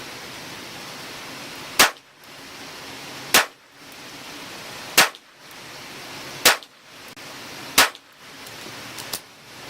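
Ruger Mark IV 22/45 Tactical .22 pistol firing Federal ammunition outdoors: six sharp, evenly spaced cracks about a second and a half apart, each with a short decay, over steady background noise.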